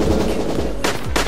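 Gunfire in the video game Tiny Troopers Joint Ops, loud rattling bursts from a machine gun with two sharp louder shots cracking out near the end.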